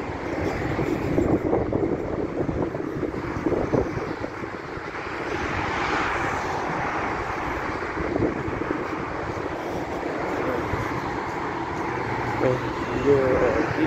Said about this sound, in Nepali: मेट्रो आयो छेउमा मेट्रो आयो है। गयो मेरो मेट्रो सैलुनतिर गयो यो।